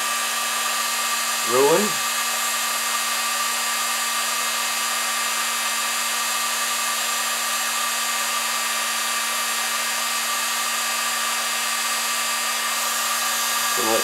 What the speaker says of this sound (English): I'm using a just a industrial paint stripper, basically what this thing is. Hot air gun.